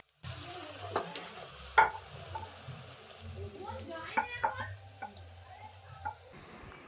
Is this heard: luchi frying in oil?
yes